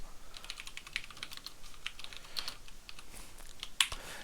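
Java code being typed on a computer keyboard, a steady patter of quick light key clicks with one sharper tap near the end, close and fairly quiet over faint background noise, no speech.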